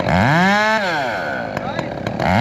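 A long-bar chainsaw at a lumberjack show revs sharply during a kickback demonstration. The engine whines up to a high pitch, then drops back, loud and close, followed by rougher idling with a few clicks.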